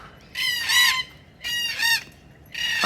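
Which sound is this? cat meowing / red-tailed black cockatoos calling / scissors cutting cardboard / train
red-tailed black cockatoos calling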